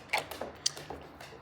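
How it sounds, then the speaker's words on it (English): A bolt is pushed through an Anchor Wizard mounting plate on a Bonafide RVR 119 kayak, giving a short run of close, light metallic clicks and creaky scrapes, with a sharper tick partway through. "Bolt goes through the plate, through the Anchor Wizard plate."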